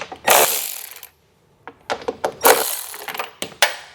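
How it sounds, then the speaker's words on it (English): Two 10mm bolts being removed from a 2022 Chevrolet Silverado 1500 with a ratchet: quick clicking ratchet bursts and metallic clatter, close and fairly loud, with a short silent gap and several sharp tool knocks and clicks after it. "I'm going to take out these two 10mm bolts."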